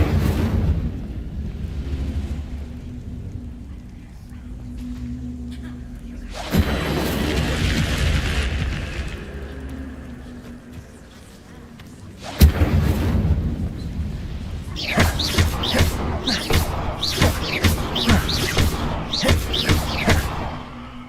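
An Incendio fire spell from Hogwarts Legacy is cast, with deep booming bursts and rushing, wind-like roars, then a sharp crack followed by a string of crackling, flickering hits.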